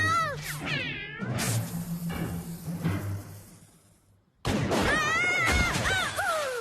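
A cartoon cat in an animated TV episode meows repeatedly in drawn-out, wavering cries, close and loud, with a brief quiet gap before the yowling resumes.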